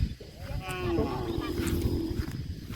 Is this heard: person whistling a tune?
no